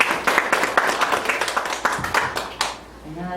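Applause from an audience at a policy forum on support for unmarried mothers in North Chungcheong, a brisk run of close handclaps lasting about three seconds before easing off, with a hint of murmuring beneath.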